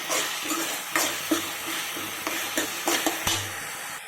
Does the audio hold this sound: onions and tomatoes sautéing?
yes